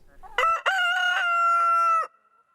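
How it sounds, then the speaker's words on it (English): A single loud rooster crow on a farm, close by, rising into a long sustained call that fades out at the end. "We've got chickens."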